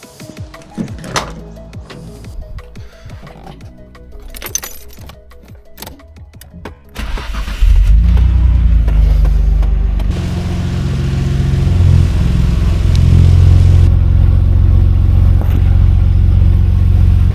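Clattering and knocks give way to a Nissan Skyline R33 GT-R engine starting and running loudly nearby, its low rumble rising as it revs, the car up on a jack.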